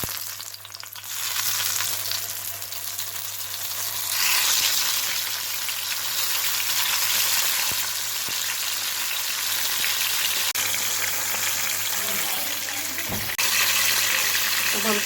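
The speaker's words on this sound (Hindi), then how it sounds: "अब हम टमाटरों को फ्राई कर लेंगे तेल" Tomato slices fry in two tablespoons of oil in a pan, giving a steady, close, bright sizzle that runs throughout with small crackles and a brief clunk near the end.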